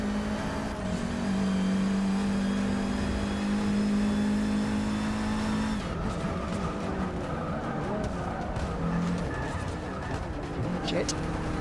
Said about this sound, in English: they got the sound of the Formula One cars right in Gran Turismo